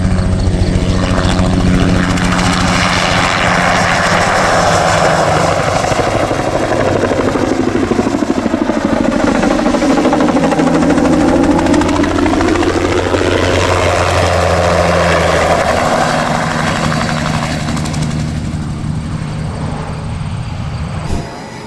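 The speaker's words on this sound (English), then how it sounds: "Watch as the crops get dusted with soybeans by this helicopter." A crop-dusting helicopter passes low over fields, its rotor and engine drone loud and continuous, swelling in pitch as it approaches and sweeping back down as it moves away over about twenty seconds, with no voices.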